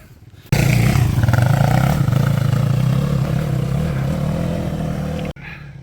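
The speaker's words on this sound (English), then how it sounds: "3 off-road bike cops going checking for people using motor vehicles illegally" Three off-road police motorbikes riding along a moorland trail between Marsden and Edale, their engines producing a loud, close, steady droning roar that holds for about five seconds before cutting off abruptly.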